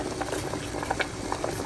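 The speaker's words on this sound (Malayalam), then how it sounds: "ഇവിടെ ഉണ്ടല്ലേ ബബിൾസ് വന്നിട്ടുണ്ട്, തിളച്ച് ഇവിടെ റെഡി ആയിട്ടുണ്ട്" Water boils in a pot on the stove, a close, steady simmer of small bubbles popping and pattering irregularly, with no voices over it.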